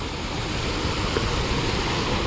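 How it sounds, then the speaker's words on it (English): A small waterfall on a fishing outing pours steadily, a continuous broadband rush of falling water, close and loud with no pauses. "A little waterfall."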